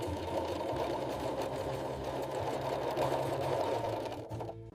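A sewing machine runs steadily while top stitching a lotus fiber bed sheet, a close, continuous mechanical whir with rapid needle clatter that cuts off near the end.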